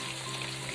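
Oil sizzling and crackling in a pan while fish fries, a steady close hiss with no pauses and no talk over it.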